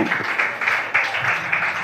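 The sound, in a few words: audience clapping loudly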